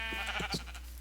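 Sheep in the TerraFirmaCraft video game give a brief, close bleat, a short wavering cry over a steady low background hum.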